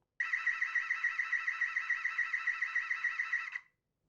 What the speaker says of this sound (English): I think it's going to be the alarm file.